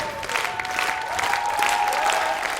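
A theatre audience at a Ukrainian comedy sketch show applauds a stand-up monologue act, a dense, steady wash of clapping that stays loud and even throughout, with no talk over it.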